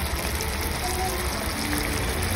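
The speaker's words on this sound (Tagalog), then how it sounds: "kapag nakikinig mo na yung kulo ng gata" Coconut milk simmering with milkfish in a pan for Bicol Express, giving a steady close bubbling, hissing wash throughout with no talk.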